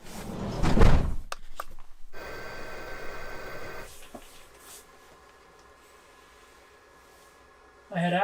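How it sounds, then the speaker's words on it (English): A car door slammed shut outdoors during a snowstorm, one loud close thud at the start, followed by muffled ambient wind and a quieter interior hush. "Slam that door shut."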